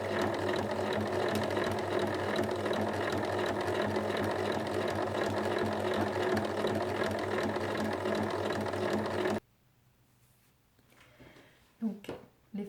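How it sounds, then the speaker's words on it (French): A sewing machine stitches tote bag pieces for about nine seconds, giving a steady, close mechanical whir before it stops. A few faint clicks and rustles follow in the quieter tail. "Et on va coudre à 1 cm donc de chaque côté."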